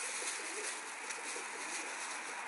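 Pigeons coo softly in a loft, a faint, steady murmur of calls blending over a constant background hiss, with no voices heard.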